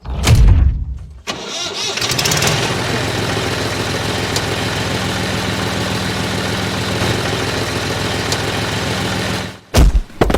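A tractor engine cranks with a loud rough burst, catches and settles into a steady close idle that runs for several seconds before a brief stutter and cutoff near the end.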